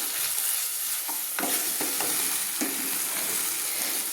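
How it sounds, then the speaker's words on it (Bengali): Chana masala spice powder sizzles and is stirred in a hot pan, a steady frying hiss with scraping stirs at intervals, close up with no talk. "ভালো করে আমি মশলাটাকে কিন্তু কষিয়ে নিচ্ছি।"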